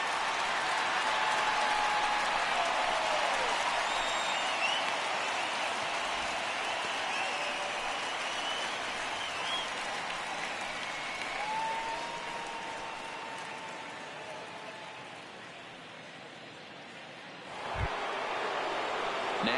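Stadium crowd in a PS4 baseball video game, Nationals down to their final out, sustaining a broad roar of applause and cheering that fades slightly before a brief swell near the end, with no voices over it.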